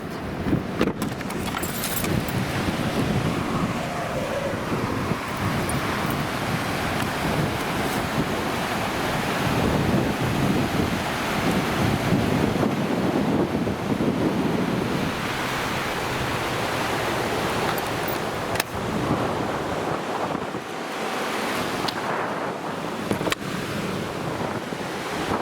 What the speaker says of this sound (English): White water ripping.